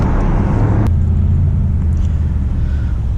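A Mercedes-AMG SL 63 4MATIC+ V8 roadster driven in race mode gives a loud, deep engine drone with road rumble, its tone abruptly dropping under a gear change or lift-off early on, then holding steady.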